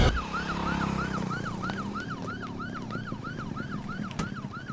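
An ambulance siren wails in a rapid, steady up-and-down cycle over low road rumble at an accident scene, sounding fairly close and loud throughout.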